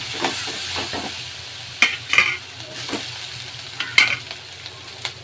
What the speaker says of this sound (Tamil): நல்லா வதக்கிங்க. இஞ்சி பூண்டு பேஸ்ட் வாடை நல்லா போகணும்.